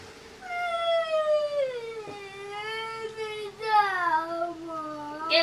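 A cat meows close by in a long run of drawn-out, wavering cries that rise and fall, with a couple of short breaks between calls and no talking over them.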